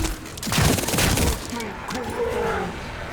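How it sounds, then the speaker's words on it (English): Gunfire bursts from The First Descendant, a sci-fi looter shooter, crackle loudly through the first second and a half, then fade under game sounds with someone speaking quietly in the background. "Somebody shot at me."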